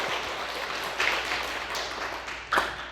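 Church congregation applauding after a choir's hymn, a soft, dense patter of many hands clapping at once, fairly faint and distant, with a couple of louder claps standing out.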